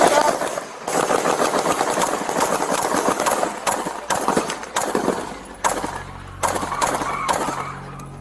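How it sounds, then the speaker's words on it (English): Bursts of AK-47 automatic gunfire ring out during a police shootout, loud rapid volleys broken by short pauses across the stretch, with no talk over them. "Central, we got a man with an AK-47. He's shooting at us."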